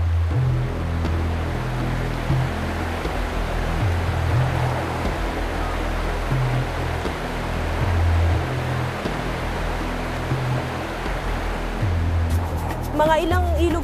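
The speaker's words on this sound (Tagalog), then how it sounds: "Makalipas ang 1 oras na lakad, sunod-sunod na ilog naman ang aming binuno." Steady broadband rush of river water during a hike along a trail crossing sixteen rivers, loud and continuous throughout, with voices briefly audible near the end.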